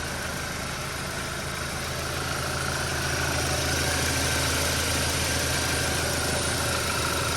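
A 2014 Audi A4 2.0T turbo engine idles steadily after a cold start, a continuous close hum with a faint high whine and no voices.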